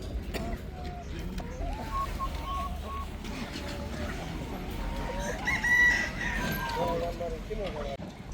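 Roosters crow repeatedly over a busy background of clucking chickens at a poultry market in Hendek, Sakarya, fairly close, with a voice talking now and then.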